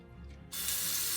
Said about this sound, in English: So let's go to the sink and get this cleaned and prepped